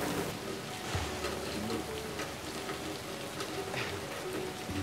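Rain falls steadily as a dense, even patter, close and moderately loud, with occasional soft knocks and no clear voices.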